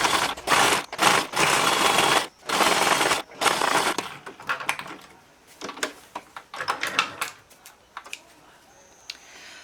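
A sewing machine runs a straight seam joining fabric to felt for a surgical cap, in bursts of rapid mechanical ticking that start loud and dense, then break into shorter, quieter runs and pauses.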